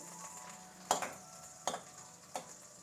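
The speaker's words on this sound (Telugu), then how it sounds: "ఇది మొత్తం వెన్న మంచిగా మెల్ట్ అయ్యే వరకు మనం ఇలా కలియపెడుతూ ఉందాము" Homemade butter melts in a pan while being stirred: three distinct scraping strokes of a utensil, spaced under a second apart, over a faint, soft sizzle, quiet and close.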